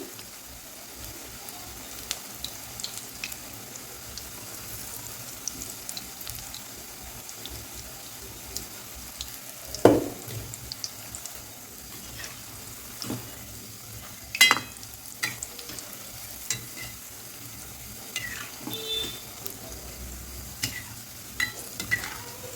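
Onion and potato bhaji fry in hot oil over a medium flame with a soft, continuous crackling sizzle, broken by occasional sharper pops and utensil clicks.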